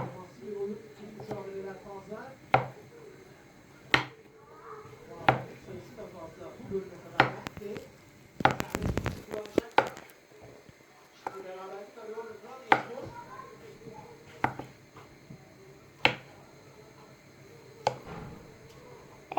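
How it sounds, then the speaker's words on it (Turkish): A knife slices bananas on a cutting board at home, giving sharp, evenly spaced taps every second or so at close range, while someone talks over the cutting. "Şimdi muzlarımızı güzel güne doğrayalım."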